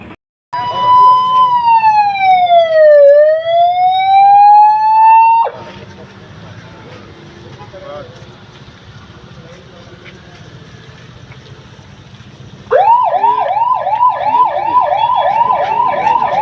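A loud ambulance siren wails in a slow rising and falling sweep. A quieter stretch follows, then a rapid warbling siren starts up close.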